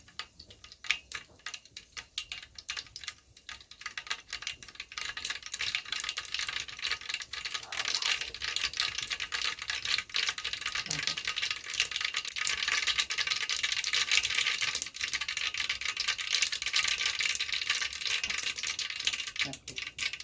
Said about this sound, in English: the sound and smell of the tempering makes the recipe very delicious. You can hear tempering sound.